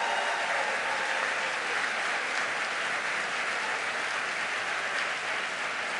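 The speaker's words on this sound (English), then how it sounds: "Give them a big round of applause." Sustained applause from a large crowd at a gun safety summit in Connecticut fills the entire stretch, a dense, even clatter of clapping with no pauses.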